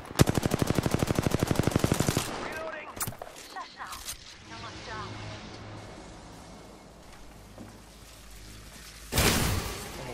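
Apex Legends gameplay gunfire: a loud, close burst of rapid automatic fire, then a few sharp single shots and a quieter stretch with voices, ending in another heavy volley.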